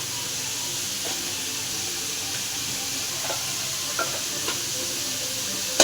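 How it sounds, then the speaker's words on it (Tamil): Vegetables with a spoonful of turmeric stirred and sautéed in a pan while making rava bath, a steady soft sizzle with a few faint scrapes of the spoon, heard alone without talk. "நல்லா கிண்டி சிம்மில் 6 அடுப்பாக வச்சு நல்லா வதக்கி விட்டுக்கோங்க."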